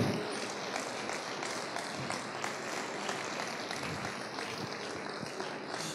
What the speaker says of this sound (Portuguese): Aquele que crê, aplauda ao Senhor.